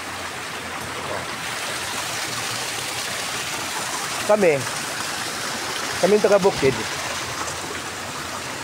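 Water flows steadily outdoors in a rural stream, a continuous broadband rush that persists throughout, with people speaking briefly over it and a couple of short louder bursts near the middle and end.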